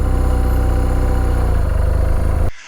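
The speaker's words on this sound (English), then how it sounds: "and then to turn, I just bring the revs up." A motorcycle engine held at steady, raised revs during slow-speed turning practice around cones, a close, continuous mid-pitched drone that cuts off abruptly near the end.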